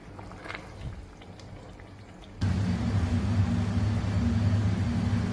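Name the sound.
blended tomato jollof sauce simmering in a pot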